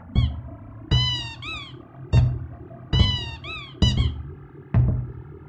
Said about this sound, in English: So if I bump into the same shark twice, it doesn't make the same sound. It only squeaks once